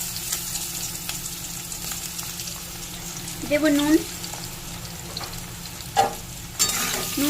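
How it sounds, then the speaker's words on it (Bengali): Potatoes frying in oil in a wok after fish, a steady moderate sizzle with occasional stirring knocks and scrapes, while a person speaks briefly over it. "আলুগুলো একটু হালকা লাল করে ভেজে নেব।"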